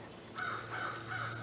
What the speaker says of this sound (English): But the birds adding ambience to the background.